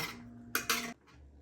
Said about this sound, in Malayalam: ഇനി ഇതെല്ലാം കൂടെ നമുക്കൊന്ന് ഇളക്കി അങ്ങ് യോജിപ്പിക്കാം